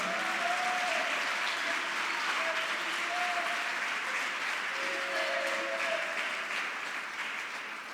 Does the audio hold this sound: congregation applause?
yes